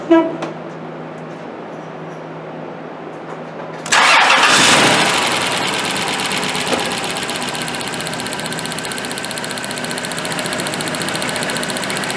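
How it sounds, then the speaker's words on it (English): A vehicle engine cranks and catches abruptly, then settles into a steady, loud idle that runs continuously afterward. "then we'll start up the vehicle"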